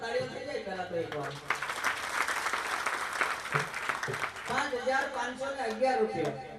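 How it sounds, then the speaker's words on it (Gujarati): An audience at a Gujarati desi santvani bhajan gathering bursts into a loud, sustained round of applause, with someone speaking over it before and after. "જોરદાર તાળીઓ થઈ જાય પહેલા તો એકવાર"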